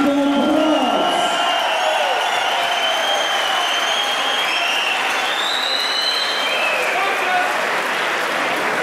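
Audience applause at a boxing match, a steady dense wash of clapping and cheering from a crowd, loud and continuous throughout, with an announcer's voice heard briefly at the start.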